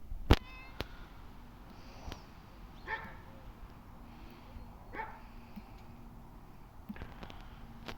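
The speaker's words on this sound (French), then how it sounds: "Désolé si vous entendez mon chien hein." A dog barks a few sparse times at a distance, faint against a quiet background hum, with long pauses between barks.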